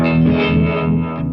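An electric guitar chord rings through a bright low-gain overdrive pedal, loud and close. It sounds thick and slightly gritty as it sustains and slowly fades.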